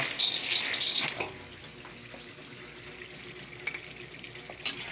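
Peanuts stirred in a hot stainless steel pan while cooking for homemade peanut butter, giving a close scraping rustle with a louder burst early on, then softer intermittent scrapes and a sharp clink near the end.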